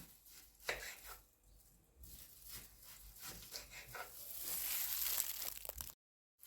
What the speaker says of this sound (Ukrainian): цибулинки невеличкі. І буду нарізати їх такими кружечками тоненькими.